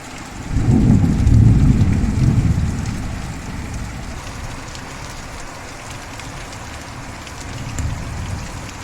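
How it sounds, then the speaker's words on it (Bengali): Heavy rain pours down in a dense, steady hiss, with a deep rumble of thunder rolling through near the start before fading. "আমাদের এদিকে তো প্রচণ্ড বৃষ্টি পড়ছে"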